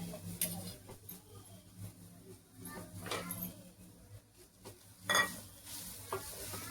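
Grated coconut, ground fine, is roasted in a pan with ghee for ukadiche modak. Soft, intermittent scraping and stirring strokes ride over a faint, low sizzle, with one sharper clatter near the end.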